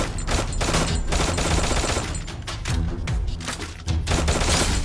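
Rapid gunfire from the mobile shooter Free Fire, with dense overlapping bursts and thumping shots running continuously and loud throughout, a fast automatic rattle with brief pauses between volleys.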